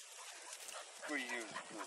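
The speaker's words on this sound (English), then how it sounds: "And here's her puppies." Young puppies at a backyard beehive visit give soft whimpers and small yips, a brief cluster of high whining cries close by, mixed with faint background voices.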